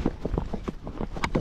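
Hooves of a Spotted Saddle Horse cantering on an outdoor trail make a quick, rhythmic clip-clop of close, moderately loud beats with no talk over them.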